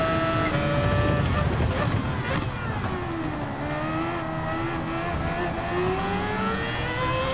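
A racing car engine in Gran Turismo 7 drones steadily throughout, its pitch rising and falling with gear changes, loud and continuous.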